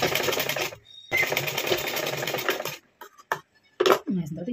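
A sewing machine stitching a blouse whirs steadily in close, loud runs, stopping briefly and then starting again, with short clicks and a voice speaking in the pauses.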